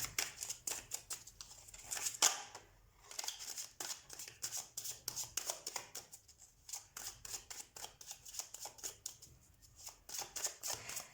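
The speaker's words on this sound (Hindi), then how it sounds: "सबसे पहले हम कार्ड शफल कर लेते हैं" A deck of cards is shuffled up close in repeated quick riffles and crisp flutters, with short pauses between passes and no voices.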